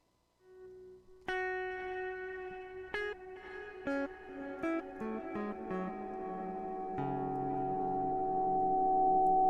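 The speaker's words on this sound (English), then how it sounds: "So in there, I could put a reverb and then hook that reverb up into the delay trails. And then you get this kind of sound." Guitar notes run through reverb feeding into delay trails, each plucked tone ringing and repeating into a swelling, sustained wash that builds steadily louder to the end.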